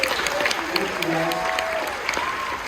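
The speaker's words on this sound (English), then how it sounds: "Give them a round of applause for helping us here." Audience applause at a magic show aboard a Royal Caribbean cruise ship, a steady wash of clapping filling the room while a voice talks over it.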